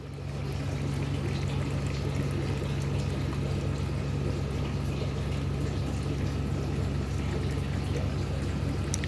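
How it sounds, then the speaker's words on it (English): A custom-built waterfall and river in a bioactive tank runs with a strong flow, giving a steady, loud, continuous splash and rush of water. "There's our custom build waterfall, river and waterfall. We've got a nice strong flow"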